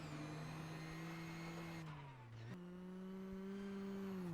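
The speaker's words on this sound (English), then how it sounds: "Suninen will be the next car through." A rally car at a Rally Finland stage sweeps past with a steady, loud engine drone that dips in pitch as it passes, then resumes on a sharp gear change, with no talk over it.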